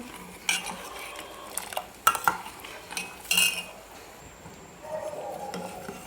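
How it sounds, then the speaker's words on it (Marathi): A metal spoon stirs milk for kheer in a pot over a low flame, scraping and clinking in irregular bursts against a soft background hiss, with no talking. "आणि पाच मिनिट आपल्याला कंटिन्यू याला ढवळत राहायचं आहे मंद गॅसवर"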